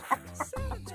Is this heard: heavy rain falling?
no